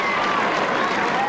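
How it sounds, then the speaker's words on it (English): Crowd applause and cheering at a televised celebrity relay race, a dense steady roar of clapping with a tonal whistle-like line running through it. "Amidst the crowd's applause and approval there."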